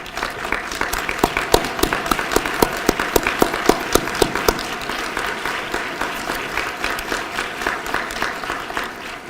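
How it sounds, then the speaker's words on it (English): Rhythmic applause for Nevada legislators at a mental health initiative event, many hands clapping steadily, with a few sharp individual claps standing out over the crowd. "would you please stand up so we can give all of you a round of applause"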